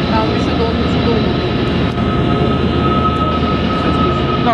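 A very long freight train with its locomotive rumbles past at the Spiral Tunnel in Yoho Park, British Columbia, giving a loud, continuous roar with faint squeals.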